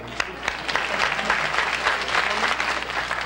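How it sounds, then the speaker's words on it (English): A television studio audience applauding, close and loud with crisp individual claps in a steady burst lasting the whole moment. "Why don't you all just clap for Peoria?"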